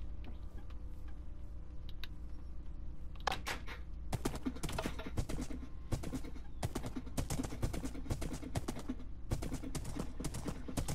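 Video game horse hooves clip-clop in quick regular beats that pick up after a quiet start, with a low hum underneath.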